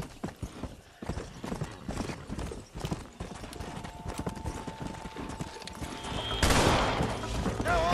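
A horse in Red Dead Redemption clip-clops along steadily at close range in game, its hooves thudding rhythmically for several seconds while a faint tone hums beneath and a brief louder rush swells near the end.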